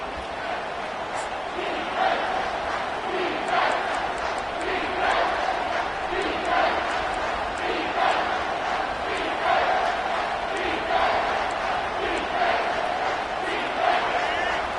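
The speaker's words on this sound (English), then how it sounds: "this crowd is bringing down the house" A college football stadium crowd roars steadily late in a tied fourth quarter on third down, a dense, sustained wall of cheering with rhythmic surges.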